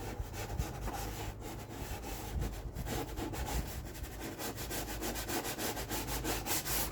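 Scrubbing 1987 C4 Corvette rear wheel bearing and brake parts clean with a cleaner, a close, steady back-and-forth rubbing and brushing that continues throughout at a moderate level with no voices.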